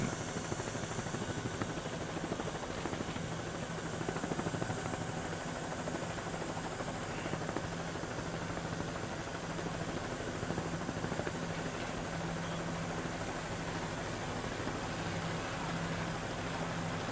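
A camera helicopter flies over a powerboat race at the Key West world championships, giving a steady, dense engine and rotor roar at an even level with no voices.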